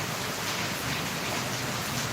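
Heavy rain pours down, a dense, unbroken hiss of falling water that stays steady and loud throughout with no voices.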